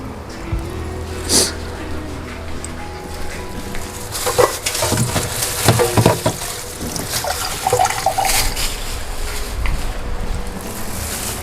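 Water poured into a pot over pieces of pork for a Thai vegetable-and-pork curry (gaeng khae): splashing and sloshing bursts that swell mid-clip, with clinks and kitchen clatter nearby.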